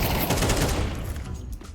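A dense burst of rapid gunfire rings out in a Counter-Strike 2 match, loud and continuous for under two seconds before it starts to fade.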